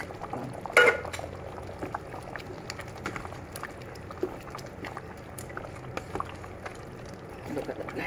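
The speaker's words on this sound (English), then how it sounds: "let it simmer again for 15 minutes" Pork ribs afritada with pineapple cubes simmering in a pot, a soft, steady bubbling texture at close range with a brief louder splash or clatter near the start.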